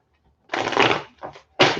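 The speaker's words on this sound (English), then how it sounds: "Toby, my cards don't want to stop shuffling." Tarot cards being shuffled up close: a long riffling burst, a short second pass after a brief pause, then another sharp riffle starting, with no talking.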